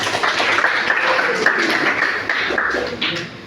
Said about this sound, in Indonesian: beri aplaus untuk kalian semuanya